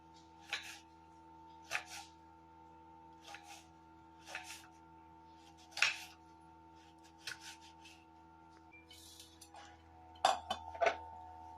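Raw green mango, firm Totapuri type, being chopped finely with a knife, giving a slow series of soft, clean taps and clinks about every second or so, close up, with no talk.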